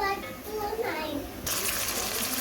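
Water is poured into a pan of browning garlic and ginger, bringing a sudden rushing, sizzling gush partway through while a voice and other speech sound in the background.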